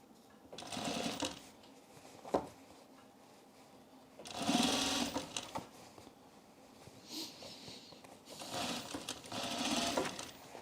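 Fabric is fed through a sewing machine during holiday sewing in three separate bursts of fast stitching, close and moderately loud, with faint handling noises and quiet gaps between the runs.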